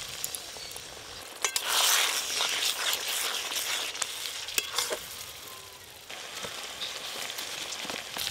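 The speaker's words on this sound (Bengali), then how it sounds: "এই জলটা দিয়ে আর একটু ভালো করে কষবো" Ground spices sautéing in a pan with added water for an egg and spinach dish, a steady close sizzle and hiss with sharp crackles as the mixture is stirred, briefly louder then easing.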